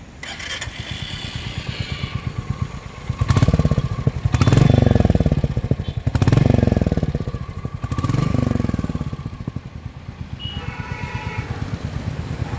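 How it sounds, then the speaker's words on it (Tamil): A Royal Enfield Meteor 350 cruiser motorcycle engine idles close by with a steady low thump, swelling into a few brief throttle blips before settling back to idle. "வண்டியோட பீட்டு கேட்டுக்கோங்க."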